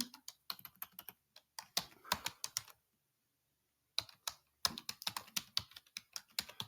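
Close, quiet keystrokes on a computer keyboard as an email address is entered, quick irregular clicks in two bursts separated by about a second of silence, with no voice.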